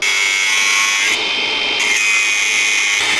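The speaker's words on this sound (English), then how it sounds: "You can see I've just cut about 3/16 off that tab." Power tool cutting a tab on a German Wespe steel armour plate in a workshop, a loud continuous high-pitched grinding whine that briefly shifts tone midway, with no talking.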